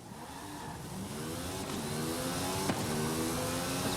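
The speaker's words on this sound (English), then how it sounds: "something to listen out for is all the different tyre sounds and all the different vehicles" Several cars driving in Forza Horizon 5, with engines revving and tyre noise, one steady layer of roaring motors and rising engine tones lasting the whole stretch.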